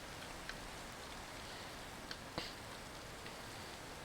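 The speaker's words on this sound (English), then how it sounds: "it's only raining, not storming or whatever." Steady rain falls in Minecraft as a soft, even hiss, with a few faint ticks and drips standing out now and then, no voices.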